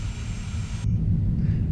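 A simulated Boeing 767 rolls out after landing in the Prepar3D flight simulator, its steady jet roar and rumble shifting abruptly partway through as braking begins, with no talk.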